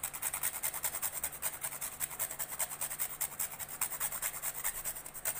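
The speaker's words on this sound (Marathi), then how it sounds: "आता आपण जायफळ घालूया तिला किसून" Whole nutmeg is grated by hand over a cooked jaggery and chana dal filling for puran poli, a soft rhythmic rasping of quick even strokes, close and fairly quiet.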